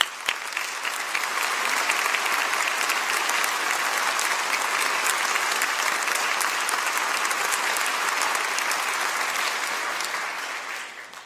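An audience at a middle school awards ceremony applauds steadily, a dense, even wash of clapping hands that swells in and holds for several seconds before tapering off at the end.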